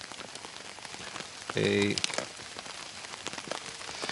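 Rain patters steadily on a DD tarp over a Jack Wolfskin one-man bivvy at a garden camp, a dense, close crackling hiss of drops throughout, with a brief tonal electronic sound in the middle.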